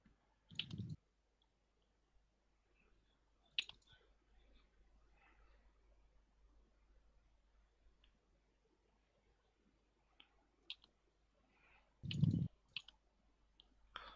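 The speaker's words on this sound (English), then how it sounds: "You're clicking too much in lane excessively on the target." Sharp, isolated mouse clicks during League of Legends play as Twisted Fate, a few scattered taps spread across an otherwise quiet stretch, with one louder thumping click near the end.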